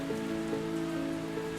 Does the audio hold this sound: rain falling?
yes